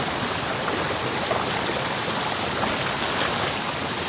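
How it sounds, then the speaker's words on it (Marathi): A waterfall roars steadily throughout, a dense continuous rush of falling water close by with no breaks. "हा तो धबधबा आहे बघा"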